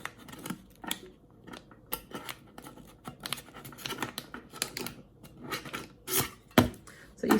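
Crisp crinkling and rustling of a £10 paper banknote being folded to fit into a savings tin, irregular close-up crackles and snaps for several seconds with no talking.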